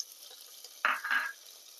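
A short, close scrape and sizzle bursts out midway as onion with ginger garlic paste and green chillies is moved in a hot pan. Quiet frying hiss sits before and after it.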